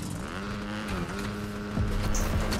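A motorcycle engine in Fortnite whines at a steady pitch, then shifts upward as it revs. A short tire-like squeal rises near the end.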